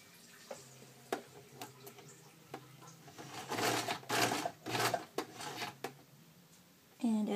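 A sewing machine stitches close to the edge of a cosplay heart in quiet bursts, with short runs of rapid needle clatter and soft clicks between pauses.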